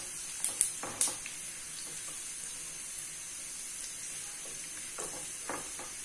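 Oil sizzles steadily in a pan with whole chilies and cumin seeds, a constant hiss, with a few clinks and stirring sounds near the start.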